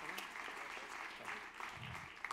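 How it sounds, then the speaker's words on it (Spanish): Brief applause from an audience at a startup presentation event in Madrid, fairly faint and mixed with a voice talking over it. "Un aplauso."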